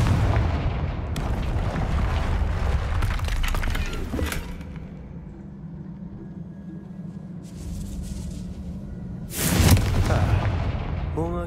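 Two heavy explosive blasts from the Confringo blasting spell in Hogwarts Legacy, one near the start and another late in the clip, each a loud booming burst with a rumbling tail over continuous game ambience.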